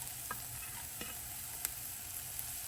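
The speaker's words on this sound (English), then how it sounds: "I'm gonna start with the onion, and I'm just gonna saute this till it softens." Onion sautéing in a pan for a beef and broccoli dinner, giving a faint, steady sizzle with a few light clicks of stirring.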